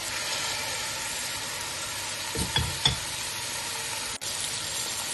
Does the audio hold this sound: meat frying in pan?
yes